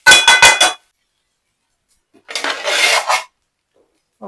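Rice tipped into a pan for egg fried rice, with a quick burst of clattering utensil scrapes followed by a longer scraping stir against the pan after a pause.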